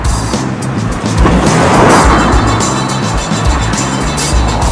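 A Mini car drives past at close range, its engine giving a loud, continuous rushing roar with surging road and wind noise throughout.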